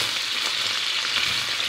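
Steady close sizzling of oil frying in a pan, a dense continuous hiss with faint stirring texture, no voices.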